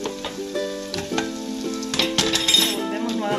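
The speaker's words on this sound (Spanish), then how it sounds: "Sofreímos todo esto junto por dos minutos revolviéndolo." Vegetables with tomato sauce sauté in a pot for lentil soup, a steady close sizzle mixed with clinks and scrapes of a spoon stirring against the metal.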